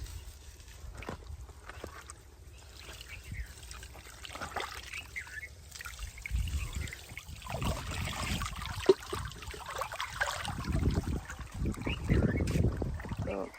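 Water runs from an opened valve into a half-filled farm tank, a soft trickle that swells into a louder, gushing pour, with no talking.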